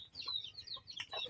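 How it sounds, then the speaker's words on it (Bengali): A chicken nicknamed Tiger, about to be slaughtered at a rural home for Shab-e-Barat cooking, gives short repeated clucks, fairly faint and close, with no talk. "টাইগার মুরগি দেখেন"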